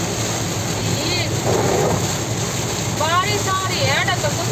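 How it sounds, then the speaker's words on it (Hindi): The season's first rain falls steadily in a broad hiss, with a low rumble of thunder and distant voices and whistling birds carrying through the downpour. "बारिश आ रही है ना"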